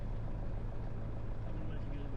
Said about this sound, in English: And this is us taxiing off of the runway.